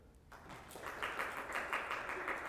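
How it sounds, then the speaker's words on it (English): Brief audience applause for a printing course graduate at a portfolio day expo, soft, steady clapping that starts abruptly and carries on at an even level. "May we have a quick applause for her?"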